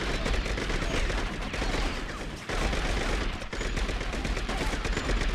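Rapid, continuous gunfire in True Crime: New York City, a dense rattle of shots that keeps up almost without pause, loud and close with only a couple of brief dips.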